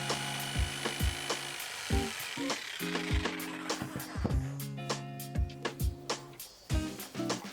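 A jigsaw cuts wood, giving a steady run of sharp, rhythmic clicks and taps over a humming, tonal mechanical drone, close and fairly quiet.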